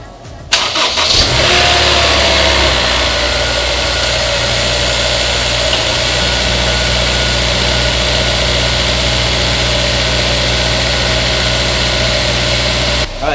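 A Honda S2000 engine, just fitted with new VTEC solenoid gaskets, cranks and starts, then settles into a steady, loud, close idle with a constant hum that runs alone to the end.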